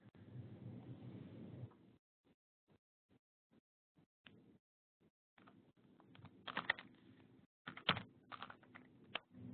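A password is typed on a computer keyboard during a login: a short run of evenly spaced, quiet key clicks, followed by a denser burst of louder taps.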